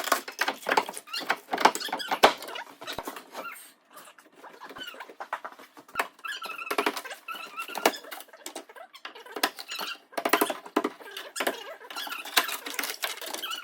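A child imitates Mickey Mouse with high, rapid squeaky vocal noises, a busy, near-continuous chatter of chirps and squeals heard close up during a kitchen remodel.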